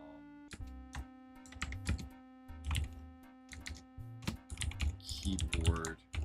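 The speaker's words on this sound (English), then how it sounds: "Keyboard check." Keys clatter on a computer keyboard in irregular bursts of close, crisp taps over a low steady hum, with some quieter clicks and faint mechanical noise near the end.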